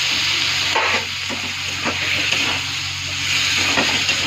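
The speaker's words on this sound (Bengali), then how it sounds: "আলুটা ভালো করে ভাজা ভাজা করবো মশলার সাথে।" Potatoes frying with ginger and mixed spices in a pan, a steady close sizzle and hiss with occasional stirring scrapes and clicks, no talking.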